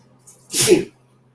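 A single sharp sneeze, close and loud, with a brief intake of breath just before it in otherwise quiet surroundings.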